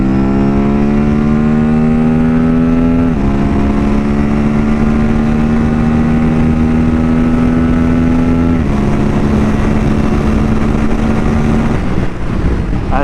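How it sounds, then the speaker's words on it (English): An Aprilia RS457 motorcycle fitted with a quickshifter, auto blipper and Sprint air filter downshifts with rev matching. Its loud, close engine drones steadily, with a few abrupt pitch shifts between gears and no talk. "when you're downshifting with the auto blipper, it rev matches the bike for you."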